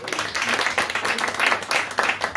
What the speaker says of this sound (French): Je vous demande d'applaudir aussi, Ginny